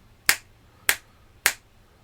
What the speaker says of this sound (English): if I snap my fingers in front of the microphone